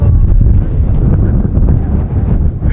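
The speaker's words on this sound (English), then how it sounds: "It's so windy." Cold wind gusts at South Lake Tahoe, buffeting the microphone with a loud, rumbling roar that surges and eases, with no voices over it.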